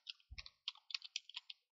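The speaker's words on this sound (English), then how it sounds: "First of all, we'll type our data source." Quick keystrokes click on a computer keyboard, about nine light taps in an irregular burst within two seconds. They sound close but faint against silence.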